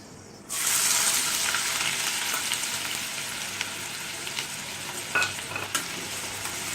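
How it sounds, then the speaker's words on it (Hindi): Finely chopped onion drops into hot oil with fenugreek seeds, a sudden loud sizzle, then keeps frying steadily with a bright crackle, punctuated by a few stirring clinks. "अब हम इसमें बारीक कटा हुआ प्याज डालेंगे।"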